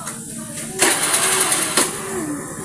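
A car engine being push started sputters and catches with a sudden burst, then runs roughly at a mid-pitched idle with a second surge of noise.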